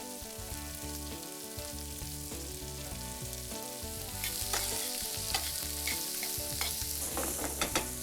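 Diced red onion with curry leaves fries in a hot pan for an Indian comfort dish, giving a steady, dense sizzle up close that grows a little louder partway through, with a few light crackles and pops.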